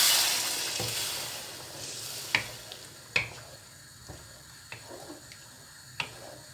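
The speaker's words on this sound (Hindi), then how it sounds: "अब हम इसमें पानी शामिल करते हैं। 1 गिलास पानी डाला है मैंने।" Water poured into a pan of fried, spiced black chickpeas sets off a loud initial sizzle that fades into bubbling hiss, broken by several sharp clinks and pops.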